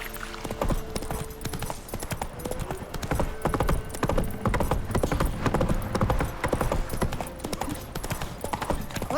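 Geralt's horse Roach gallops in The Witcher 3, steady rapid hoofbeats pounding loud and close for the whole stretch over a busy game soundscape, with a faint whinny and no talking.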